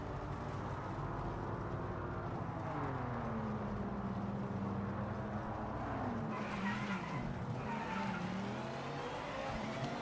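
A BMW M4 race car in the Project Motor Racing video game drives through gravel at Bahrain, engine roaring and revving with tires skidding and squealing, then a loose crunch and rattle of gravel, loud and continuous.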